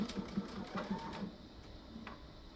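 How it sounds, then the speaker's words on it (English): A sewing machine stitches rag quilt fabric pieces together in a quick rhythmic burst of mechanical thumps for about a second, then slows and stops, leaving quiet room noise with a faint click near the end. "So we're just going to sew these together."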